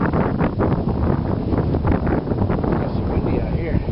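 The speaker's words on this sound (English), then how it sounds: "Got some windy out here." Strong gusts buffet the microphone with a rough, rumbling roar that surges and dips continuously, close and loud.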